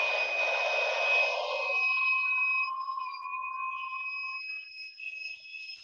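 A hair dryer blows on a painted glass bottle craft, a loud steady whir with a high whine that drops partway through and winds down to a thinner fading hum.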